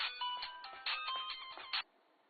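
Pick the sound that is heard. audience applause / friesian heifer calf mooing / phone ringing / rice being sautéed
phone ringing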